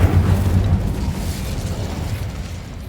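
Incendio fire spell cast in Hogwarts Legacy, a loud booming burst of flame that rumbles and fades over about three seconds, with no talking.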